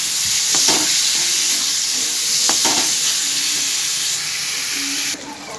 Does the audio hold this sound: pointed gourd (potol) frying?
yes